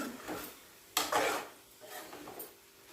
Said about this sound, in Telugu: ఇప్పుడు ఇదంతా కలుపుకుందాం